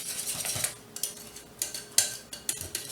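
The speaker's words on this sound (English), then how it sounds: "you can just use your whisk. And just beat it like that." A hand whisk beats custard pie filling in a bowl, giving quick bursts of metallic clinks and scraping in an uneven rhythm, close and alone.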